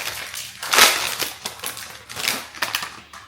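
Packaged breakfast sandwiches of egg patties, cheese and sausage being unwrapped, giving a run of close, crisp crinkling and tearing bursts of wrapper, one sharp loud rustle early on, with no talking.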